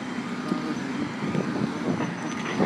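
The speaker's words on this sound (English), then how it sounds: "Sorry about all these loud cars" Steady roadway traffic noise with vehicles rumbling past close by, a continuous broadband drone with slight surges as cars go by, no voices.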